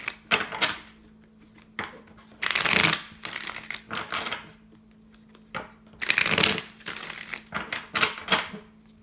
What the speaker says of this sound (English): I'm going to pull 4 more, Thoth cards